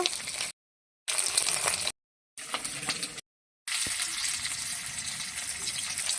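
Hilsa fish pieces frying lightly in hot oil, a steady bright sizzle and crackle heard in several short bursts separated by silent cuts, close and fairly loud with no talking.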